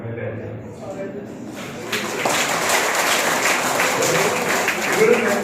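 Applause from an audience at a speech event, a broad steady clatter of many hands that swells and continues under a lively hall ambience, with some voices mixed in.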